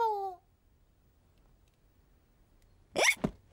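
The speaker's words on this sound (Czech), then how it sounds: "Tom vypil svůj džus příliš rychle a teď má škytavku." A cartoon child lets out a single sharp hiccup after gulping juice too fast. It comes near the end, after a brief high squeal and a long quiet pause.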